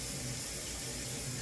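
Steady rush of running tap water as hands are rinsed under a kitchen faucet during home cooking, a continuous even splash with no talking.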